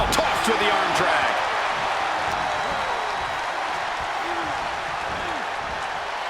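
A wrestling arena crowd at a Raw Saturday Night's Main Event roars and applauds continuously, a loud, sustained wall of cheering with a commentator talking over it.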